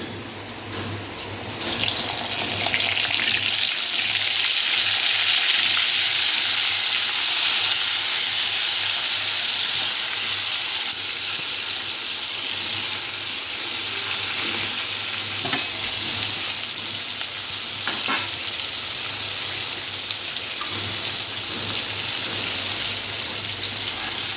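Stuffed brinjals with asafoetida and black khurasani masala sauté in a hot pan, giving a steady, close sizzle that runs unbroken throughout, with faint stirring scrapes mixed in.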